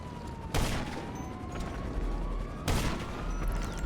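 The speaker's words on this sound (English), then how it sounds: "I sniped this man a few more times" Two sharp, loud sniper rifle shots crack about two seconds apart in GTA, each a sudden blast over a steady background hum of city ambience, with no talk.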